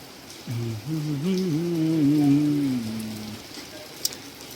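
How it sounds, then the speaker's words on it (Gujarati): Steady rain patters in the background in Gandhinagar while a voice hums or speaks over it for a few seconds. "વરસાદ પડે છે બહાર"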